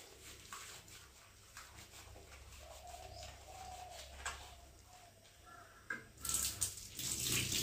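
Hot water runs from a tap and splashes as the outside of a Nelcath catheter tube is rinsed, while birds coo softly in the background.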